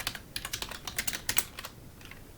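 Typing on a computer keyboard, a quick run of close, crisp key clicks in an uneven rhythm, with no voices.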